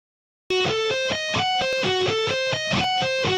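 Distorted electric guitar plays a fast diminished shred riff alone, a steady stream of tightly picked notes in alternating groups of up picks and down picks, loud and continuous after a brief silence.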